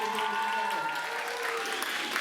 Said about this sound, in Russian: давайте аплодисменты